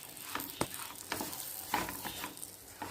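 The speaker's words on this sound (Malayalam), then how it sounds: "നന്നായിട്ട് തന്നെ വെളിച്ചെണ്ണയിൽ നന്നായിട്ട് ഇതൊന്ന് വഴറ്റിയെടുക്കുക." Thick masala paste of chilli, coriander, turmeric, garam masala and pepper powders being stirred and sautéed in coconut oil for a Kerala-style mutton curry, with soft sizzling and several scraping stirs of the spoon, close up and quiet.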